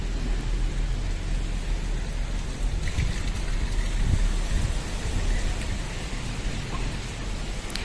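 Steady rain patters down in a continuous wash of noise, with a faint low rumble underneath and no voices.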